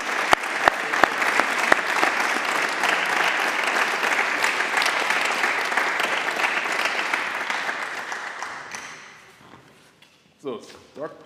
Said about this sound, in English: I'm sure you deserve a big applause and these awards